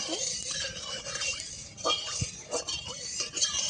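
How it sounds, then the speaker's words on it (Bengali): A spoon stirs fish with turmeric and mustard oil in a pan, giving soft scraping and light metallic clinks at an uneven pace. "নাড়িয়ে নিচ্ছি"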